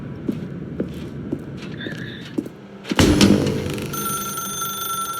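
A telephone rings inside the video game The Stanley Parable 2, a sharp electronic ring that starts midway and keeps on alongside steady tonal chiming, following quieter game ambience and footsteps.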